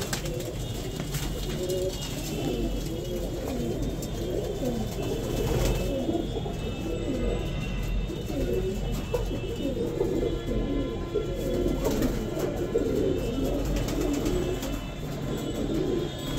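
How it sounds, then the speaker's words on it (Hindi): Around seventy female pigeons kept in a net loft coo continuously, overlapping low throaty calls from many birds close by, steady throughout with occasional rustling and no speech. "लगभग दोस्तों दोनों टोटल मिलाकर 70-75 कबूतर होंगे ये।"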